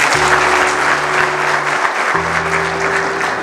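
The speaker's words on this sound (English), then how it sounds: "Please can you clap for her?" An audience at a university public lecture claps: a dense, continuous burst of applause from many hands, loud and even for the whole stretch, with a low steady hum running beneath it.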